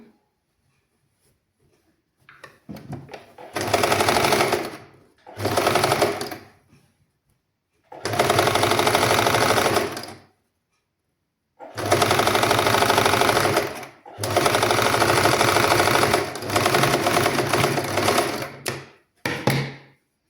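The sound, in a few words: sewing machine stitching fabric straight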